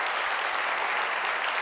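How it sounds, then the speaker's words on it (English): Steady, dense audience applause at an education town hall, a short continuous burst of many hands clapping with no voices on top. "A big round of applause, please, for the number of people who have participated."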